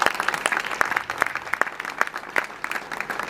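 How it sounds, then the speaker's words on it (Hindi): Applause from the audience at a children's school celebration event, a brisk burst of clapping with individual claps standing out, moderately loud and continuous. "ताली एक बार जोरदार ताली।"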